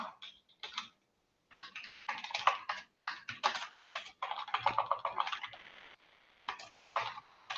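Computer keyboard keys typed in quick bursts with short pauses, close and fairly loud, while someone writes code.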